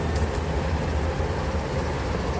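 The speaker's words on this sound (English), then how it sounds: "Train going by." A train rolls past a river boat landing in Pennsylvania, a steady, loud rumble of wheels on rails filling the whole stretch without any talking.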